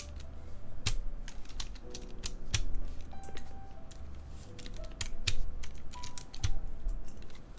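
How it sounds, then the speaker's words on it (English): Keycaps coming off an HHKB Professional Hybrid keyboard, heard as a run of close, crisp plastic clicks and taps at irregular intervals with no talking. "we're going to remove all of these keycaps first"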